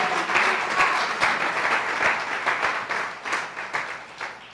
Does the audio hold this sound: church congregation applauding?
yes